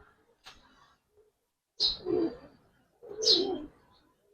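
Giribaz pigeons, a pure pair with two males, coo up close in two separate throaty bursts after a soft earlier flutter, with quiet pauses between calls.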